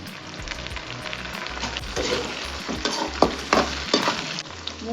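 Tomatoes go into frying onions for a fish curry and are stirred, giving a loud close sizzle with irregular scraping and clattering strokes of a spoon against the pan.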